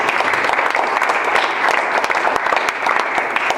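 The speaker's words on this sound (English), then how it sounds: "Let's give a big round of applause." An audience at a chamber award luncheon applauds steadily, a dense wash of clapping hands sustained at even loudness from start to finish.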